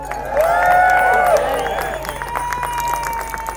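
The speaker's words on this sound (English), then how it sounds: "Can we please give him a big cheer, Robin Lindsay?" Crowd cheering and clapping at a live event, a broad roar of voices and applause with whistles rising over a steady background hum, loud at first then easing slightly.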